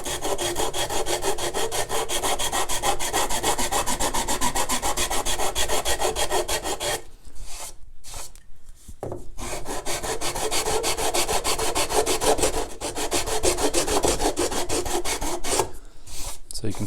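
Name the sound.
sanding guitar neck with 80 grit shaping tool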